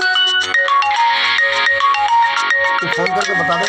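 A mobile phone rings loudly and close with an incoming-call ringtone, a bright, melodic electronic tune of quick repeated notes that plays continuously.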